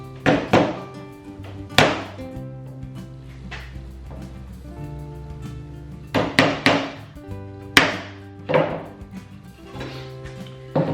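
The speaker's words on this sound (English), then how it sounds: "Now, be very careful when nailing this down." A hammer drives nails into the bottom of a simple wooden birdhouse, sharp close knocks coming in irregular clusters of two or three with ringing decays and short pauses between.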